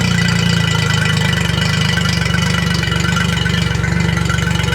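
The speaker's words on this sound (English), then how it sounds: "We'll let that run for a couple of minutes. Give it a good old flush." An outboard engine on a Polycraft 410 Challenger boat idles on flushing muffs, with a loud, close, steady throbbing and a rapid regular pulse that holds evenly throughout.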